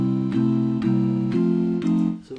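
Four-part barbershop voices sing a sustained color chord with the baritone on the sixth, a few short held chords changing in sequence, clear and close.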